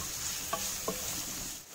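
Garlic, ginger, carrot, capsicum and cabbage stir-fried for an oats Manchurian gravy give a steady, fairly soft sizzle, broken by two short scraping stirs of the spatula, with no talking.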